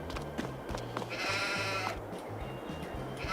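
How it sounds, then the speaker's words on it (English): Sheep bleat repeatedly in Farming Simulator 22, several short overlapping calls rising over a low rhythmic engine hum, moderately close and fairly quiet. "We've got the sheepy sheeps."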